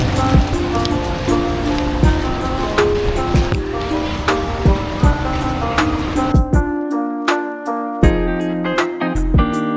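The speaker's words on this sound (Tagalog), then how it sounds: "Umuulan kanina pa." Steady rain near a ferry pier in Surat Thani, Thailand, a loud continuous hiss of drops with scattered sharper patters and splashes, with a low murmur of background music underneath throughout.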